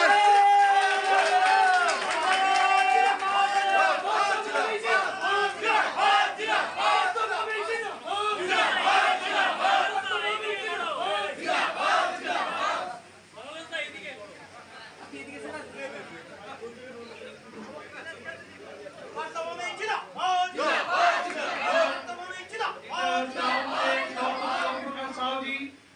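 Crowd at a Trinamool Congress political rally in Titagarh chanting slogans in loud, rhythmic bursts, with shouted calls and a brief lull midway before the chanting resumes.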